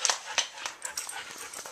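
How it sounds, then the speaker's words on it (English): A pet dog making a run of short whimpers, yips and sniffs in a home, several quick close sounds in irregular rhythm. "This is our doggy, Reno."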